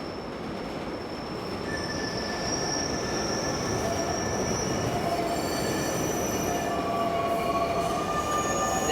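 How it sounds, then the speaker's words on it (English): R211 R local subway train on the N line near Gates Avenue, with a loud steady rumble as high, drawn-out wheel squeals rise and overlap throughout, and no voices. "This is a Catlin-bound R local train."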